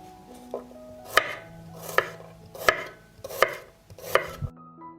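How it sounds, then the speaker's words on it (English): A knife chops a head of garlic on a cutting board, five sharp, evenly spaced chopping strikes ringing out close and loud, with faint kitchen clatter between them and no talking. "I cut the peppers into fillets and will mince 1 head of garlic."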